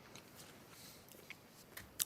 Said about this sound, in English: Chewing my chicken nugget. It was a good chicken nugget,